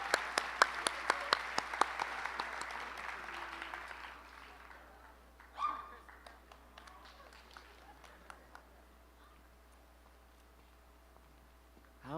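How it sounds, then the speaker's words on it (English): An audience at a high school graduation ceremony applauds the awardees with dense, lively clapping that fills the hall for a few seconds, then tapers off into scattered claps and quiet room noise. "Let's give one more round of applause for all of our awardees today."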